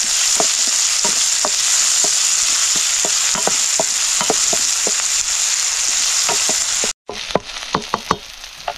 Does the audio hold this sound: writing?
no